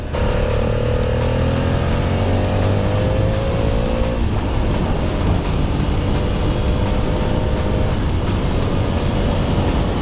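A Ducati 800 Monster S2R on its first ride roars loud and close, with the engine note climbing through gears and wind rushing constantly over it.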